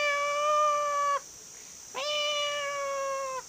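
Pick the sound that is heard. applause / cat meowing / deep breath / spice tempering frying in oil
cat meowing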